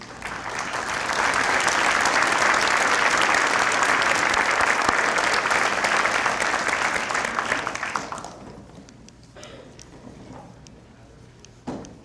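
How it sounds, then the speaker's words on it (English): Sustained applause from an audience at a project management symposium, honoring standing advisory board members, dense and steady for about eight seconds before fading into scattered claps and quiet room noise. "please stand at this time and receive a round of applause for your dedication"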